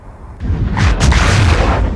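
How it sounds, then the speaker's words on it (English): A deep, rumbling torpedo or depth-charge explosion in a submarine war film swells and sustains with heavy low-end boom and rushing noise, loud and close. "You vibrate with the explosions"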